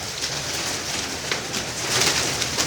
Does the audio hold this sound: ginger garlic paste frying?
no